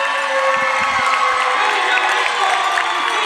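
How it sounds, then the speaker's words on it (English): An indoor soccer crowd at a Wichita Wings home game roars and cheers in a loud, sustained wash of voices, with a few sharp claps or thuds early on. "And this crowd is feeling it tonight."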